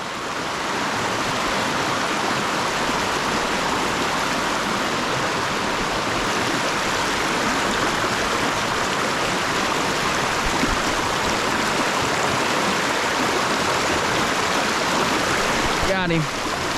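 A small brook trout stream near Rutland, Vermont rushes steadily and loudly up close, a constant broadband wash of flowing water with a brief faint sound near the end.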